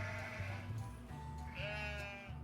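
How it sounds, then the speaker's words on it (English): Sheep bleat in wavering, drawn-out calls over a steady low hum, with several overlapping voices at moderate distance. "Do you hear the sound of the sheep?"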